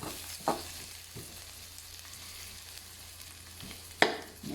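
Onions fry in a pan with a low, even sizzle, broken by two sharp clatters of a utensil against the pan, and no one speaks.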